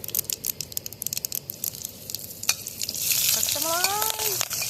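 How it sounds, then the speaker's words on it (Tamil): Mustard seeds splutter in hot oil in a home kitchen, a rapid patter of close pops and crackles that thickens into a denser sizzle, with a brief high squeal near the end. "கடுகு தடப்பட தடப்படன்னு இருக்குது"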